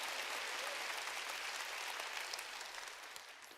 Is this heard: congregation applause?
yes